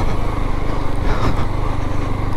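Motorcycle engine on an off-road trail where the concrete road ends, a loud, close, buzzing drone that runs continuously with a slight pulsing throb.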